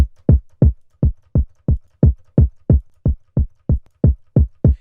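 A punchy distorted kick and 808 pattern programmed in FL Studio for a trap beat, hitting in a steady loud rhythm of about fourteen booming thumps, each with a quick sharp attack and short decaying tail, with no voices.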